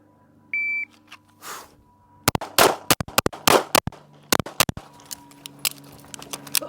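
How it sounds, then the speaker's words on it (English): A Walther PDP Compact pistol fires at an indoor range about ten yards from the target, a rapid string of sharp, loud shots in quick bursts. Electronic beeps from a shot timer come first, and faint scattered clicks follow. "I took a makeup shot."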